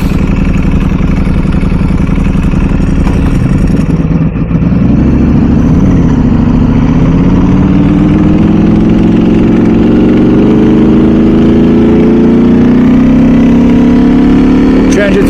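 A Ducati or MV Agusta motorcycle engine runs close up and loud, a steady idle that rises in pitch partway through, holding a continuous even drone to the end.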